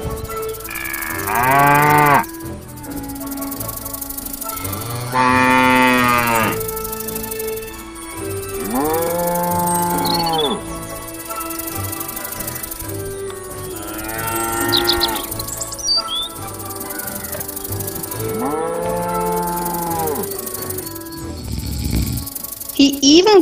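Cows moo at a cow shed in a children's cartoon story, with five drawn-out, loud moos spaced a few seconds apart and faint bird chirps between them.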